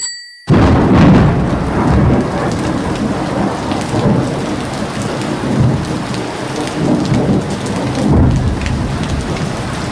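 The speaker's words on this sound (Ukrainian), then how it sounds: "Оця гроза тут в Катманду розпочиналася зазвичай після обіду і тривала до пізнього вечора" A heavy afternoon thunderstorm in Kathmandu, Nepal: steady loud rain pours on surfaces while deep rolling thunder swells in and out, close and continuous with no voices.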